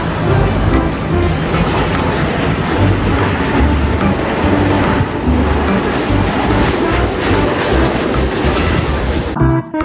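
A Thomas toy train runs steadily with a loud, dense rattling rumble and rail-like clatter that continues throughout, with no voices.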